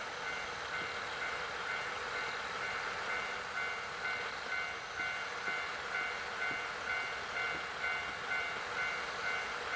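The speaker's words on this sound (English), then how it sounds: "the doors to the train stand open. They seem to be inviting me inside, ready to depart at any moment." Train in a video game standing at a station with doors open, a steady mechanical hum and rumble with faint regular clanking pulses and tonal chiming, continuous, with no talking.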